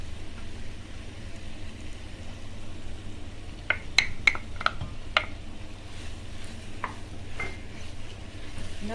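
A spoon stirs starch into carrot halwa in a pot, giving a faint cluster of sharp metallic clinks and scrapes midway and a couple more near the end over a quiet background.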